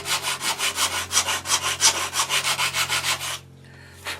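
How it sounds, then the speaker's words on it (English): Rhythmic back-and-forth rasping of a homemade sanding bar with 80-grit sticky-back sandpaper scraping wood, about four strokes per second, close and loud, then stopping abruptly with one last faint scrape. "a sanding bar that I made with just some sticky back 80 grit sandpaper on it"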